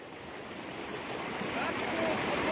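A stream flows as friends wade across it, a soft steady rush of water that rises a little toward the end, fairly faint with some wind, with no clear talk over it.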